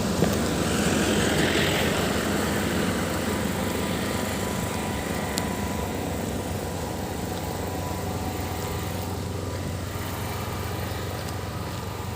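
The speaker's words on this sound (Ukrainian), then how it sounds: "Чуєте, як гудять генератори?" A steady mechanical drone of power generators runs throughout during a blackout, loud and unbroken, humming nearby with no talking.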